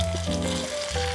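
A kimchi pancake frying in hot oil in a pan, a steady, close sizzle with a faint hum running continuously beneath it and no talk.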